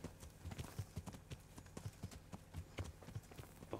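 Horse hooves clip-clop in a steady, fairly quick rhythm in the medieval video game Kingdom Come: Deliverance, with faint ambient noise behind the footfalls and no speech.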